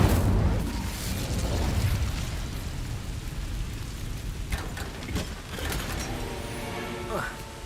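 Incendio fire spell cast in a Harry Potter video game: a loud whooshing, crackling blast of flame that rumbles and fades, followed by a few sharp pops, with voices talking underneath.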